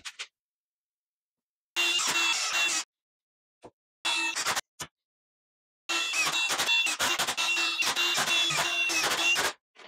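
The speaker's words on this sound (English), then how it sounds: "and we'll drive in the screws" A power drill drives screws into 2x2 wood while building a bike stand: loud whirring bursts of one to four seconds with short pauses and clicks between, close and without talk.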